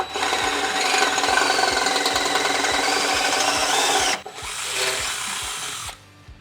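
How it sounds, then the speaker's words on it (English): A power drill with a 23/64 bit grinds through an ARB steel skid plate for a Tacoma, giving a loud, steady whine that briefly cuts out, resumes, then stops. "now that we have that hole drilled out"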